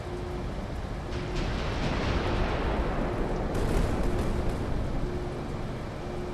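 Rapid-fire naval gun rounds boom continuously in the video game Carrier Command 2, a dense, sustained rumble of shots and blasts with no speech.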